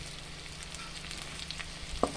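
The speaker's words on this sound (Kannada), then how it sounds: "ತುಪ್ಪ ಹಾಕಿ ನಾನು ಕಟ್ ಮಾಡಿದ್ದ ಈರುಳ್ಳಿ ಹಾಕ್ತಾ ಇದ್ದೇನೆ." Chopped onions fry in ghee in a pan, a quiet even sizzle close by with one brief sharp clink near the end, no voices.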